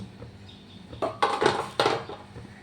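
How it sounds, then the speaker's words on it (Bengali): Lids come off a cooking pot holding lote fish paturi, two clattering metal knocks and scrapes about half a second apart against a quiet kitchen hum. "এবার আমি ঢাকাটা খুলে দিলাম আর ভেতরে যে ঢাকাটা ছিল সেই ঢাকাটাও খুলে দিচ্ছি"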